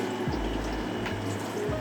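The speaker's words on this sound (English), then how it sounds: "just going to pour some in there like that" Shrimp brine pours into a container of oil-packed tuna bait, a close liquid trickle and splash with a few gurgling pulses.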